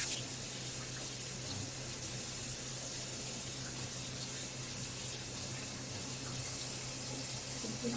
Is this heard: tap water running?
yes